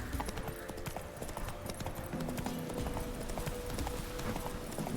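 Galloping hoofbeats of a horse in The Witcher 3 video game, a fast, steady clip-clop rhythm that runs loud and unbroken over game ambience, with a brief spoken line from a player.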